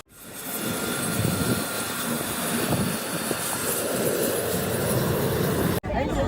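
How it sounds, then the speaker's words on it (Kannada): A steady engine roar of an aircraft passing overhead at the Bahrain International Airshow 2024 fills the air, continuous and loud, with crowd noise and voices underneath, cutting off abruptly near the end. "ಅಲ್ಲಿ ಅದು ನೋಡಿ ಫ್ಲೈಟ್ ಬಂದು"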